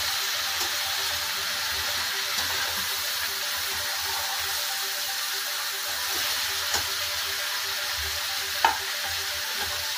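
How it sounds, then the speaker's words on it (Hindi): Cauliflower, potato and vegetable mix sizzles steadily in a hot pan while being stirred, with occasional soft clinks of the spoon against the pan and no talking. "अब इसे अच्छी तरह से चला लीजिए।"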